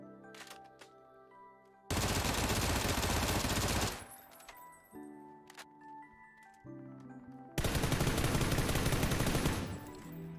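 Two long, loud bursts of rapid FAMAS rifle fire in a video game, separated by quieter clicks and mechanical game sounds, with no talking.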